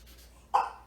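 A single sharp bark from a dog indoors, loud and close, rising out of a quiet room halfway through with a short ringing tail.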